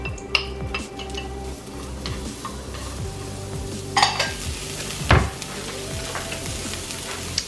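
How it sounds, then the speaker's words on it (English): Carrots frying in an oiled pan for bibimbap, a continuous soft sizzle broken by scraping stirs and a few sharp clinks of a utensil against the pan, close up with no talking. "So now we are going to cook our carrots."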